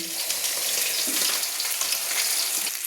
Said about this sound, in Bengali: এবার আমি আর একটু কষিয়ে নিচ্ছি